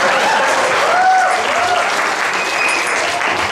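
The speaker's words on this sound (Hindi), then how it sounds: "आपकी तालियों ने मुझे बता दिया आप मेरा कितना ज़्यादा इंतज़ार कर रहे थे।" An audience claps steadily throughout a hall, dense and sustained applause filling the room with a faint voice briefly audible underneath.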